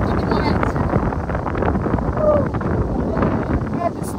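Strong, steady wind roars and buffets against the microphone high on a mountain ridge above the Yenisei near Krasnoyarsk, a continuous loud rush without letup.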